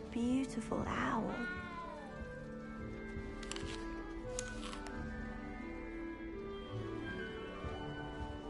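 A cat meows clearly once near the start inside the Hogwarts Legacy video game, a close wavering call over quiet ambient music, followed by softer game sounds.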